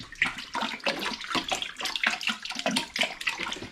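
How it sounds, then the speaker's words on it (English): Łowicz raspberry and cranberry syrup poured over water and ginger for a home-brewed cider, giving a steady close-up liquid splash and trickle that rises and falls in short surges for about four seconds. "here goes the Łowicz raspberry and cranberry syrup"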